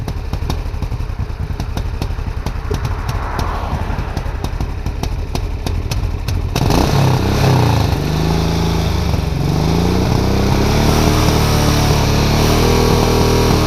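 A Kawasaki Ninja 250 motorcycle engine with a fuel problem runs loudly and unevenly, sputtering with rapid pops before settling into a rougher, rumbling idle.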